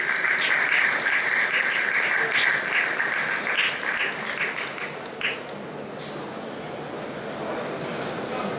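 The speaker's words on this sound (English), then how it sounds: "round of applause." Audience applause at the REI 2021 opening award ceremony, a loud sustained clapping that fades away midway, with faint talk and room noise carrying on afterwards.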